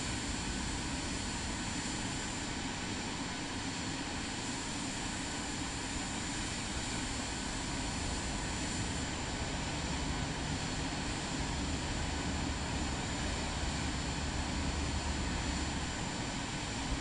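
A jet airliner's engines whine and rumble steadily while it taxis out for departure in Microsoft Flight Simulator 2024 on PS5, a loud, continuous drone with no talking over it.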